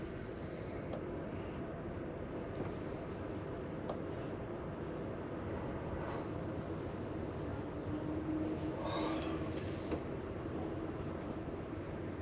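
Steady low rumble and rolling clatter of an Amtrak passenger train running through the night, heard from inside the car as a continuous near drone with faint scattered squeaks and no talk.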